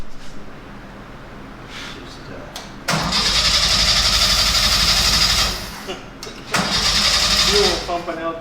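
A restored buggy's engine is cranked in two bursts, a loud mechanical churning that runs about two and a half seconds, pauses, then cranks again, with low idle-like rumble and talk between attempts.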